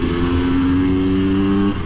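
A KTM EXC 250 two-stroke motard engine revs steadily and loudly up close, holding a buzzing, even pitch for nearly two seconds before easing off at the end.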